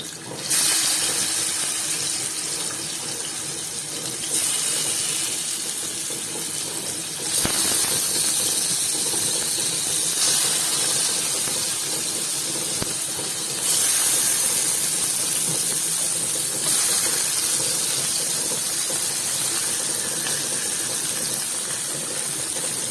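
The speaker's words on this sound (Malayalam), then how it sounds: "എണ്ണ ഒഴിച്ചു അതിലേക്ക് നമ്മൾ കഷ്ണങ്ങൾ ഓരോന്നും ഇടാം" Pieces of fish frying in hot oil, a continuous loud hiss and crackle that holds steady with brief surges, heard close and without talk.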